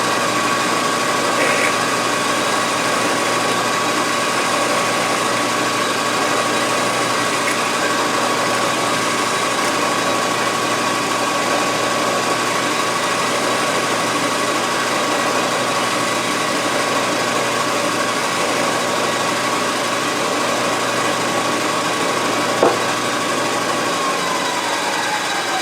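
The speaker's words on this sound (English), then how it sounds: "let's drill it about 3/4 of an inch deep" A steady, unbroken machine drone of a 1/4-inch tap drill bit boring about 3/4 inch into metal, holding an even pitch and loudness throughout with no talking.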